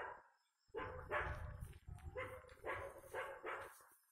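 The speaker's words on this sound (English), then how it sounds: "some dogs are barking over there" Several dogs bark in quick bursts, fairly distant, with yips mixed in and short pauses between the volleys.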